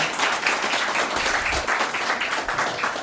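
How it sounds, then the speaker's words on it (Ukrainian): Steady crowd applause and clapping from a live audience at a comedy show, continuous and fairly loud throughout, with no speech over it. "Оплески вам."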